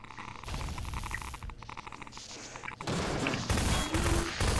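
Gunfire in Half-Life 2, a run of dense shots and impacts that stays loud throughout and gets heavier and busier in the second half, with no talk over it.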